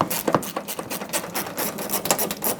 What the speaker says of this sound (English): Right in here, you can see a 10mm fastener that we have to remove. So grab a socket and take this out.